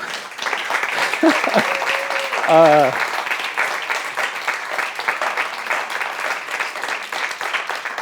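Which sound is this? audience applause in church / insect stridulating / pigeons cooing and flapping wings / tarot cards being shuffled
audience applause in church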